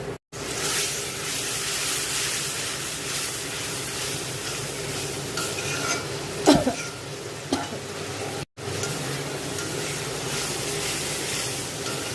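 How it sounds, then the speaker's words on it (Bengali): Spice paste for hilsa roe bhuna sizzles and fries in a pan with a steady, soft hiss. A spoon scrapes and stirs it now and then, and there are brief clicks and pauses. "মশলাটা খুব ভালো করে কষানো পর্যন্ত অপেক্ষা করছি।"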